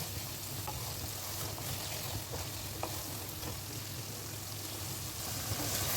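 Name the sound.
spice paste frying on raised gas flame for jackfruit shrimp curry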